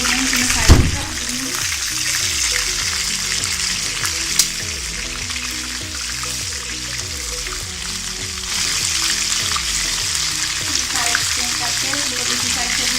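Masala seekh kebabs frying in hot oil give a steady, dense sizzle throughout, with a sharp knock early on and another brief clatter midway, while someone talks over the cooking.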